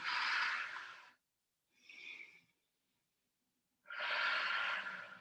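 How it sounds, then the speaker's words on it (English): Slow, deep breaths during a stretching exercise: a long close airy exhale, a shorter softer breath, a pause of silence, then another long full exhale, with no talking. "So nice long breaths there."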